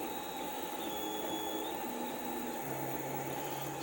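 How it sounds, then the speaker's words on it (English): A Tevo Black Widow 3D printer runs steadily, giving off a continuous motor whine and hum with shifting stepper tones and a fan-like hiss, close and even throughout without speech. "I've got it built up and running at this point."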